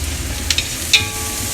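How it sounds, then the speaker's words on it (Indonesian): Onion and a little garlic frying in a pan for a tomato meatball soup, giving a continuous close sizzle with a couple of brief stirring scrapes, no talking. "Gorengnya ini bombay aja sama bawang putih sedikit."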